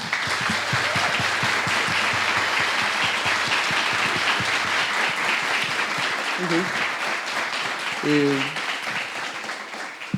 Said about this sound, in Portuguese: queria pedir uma salva de palmas para todo mundo